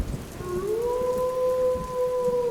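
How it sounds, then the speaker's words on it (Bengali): Steady light drizzle patters softly and continuously, with a thin sustained tone gliding and holding above the rain. "সেদিন সন্ধ্যে থেকে একটানা ঝিরঝির বৃষ্টি হচ্ছে"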